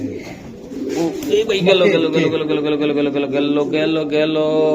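Racing pigeons coo in soft, repeated throaty calls that blend with nearby people talking.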